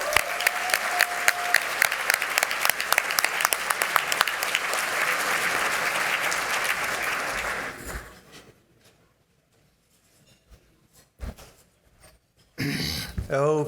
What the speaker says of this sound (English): Let's send a rousing round of applause back to the East Coast and to Dr. Bob Dennard.